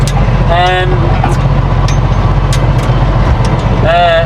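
A tractor rolling a field drones with a constant loud low engine rumble throughout, while a voice talks over it in two short bursts.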